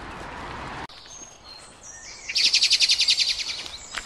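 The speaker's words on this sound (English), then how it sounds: "Lots of birds everywhere." Birds chirp outdoors in a quick run of bright, repeated tweets that swell to a loud, rhythmic burst near the end, standing out over a quiet background after an earlier stretch of duller noise.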